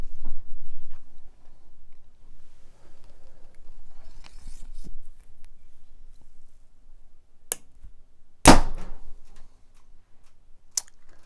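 PSE EVO EVL compound bow shot, a single sharp, loud snap of the string release among sparse small clicks and ticks in an otherwise quiet space, no talking.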